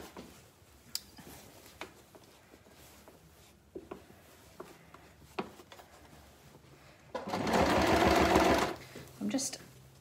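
A sewing machine stitches through layers of foam and fabric, a loud steady whirring run of about two seconds near the end, preceded by faint handling clicks and shuffling, with talk between.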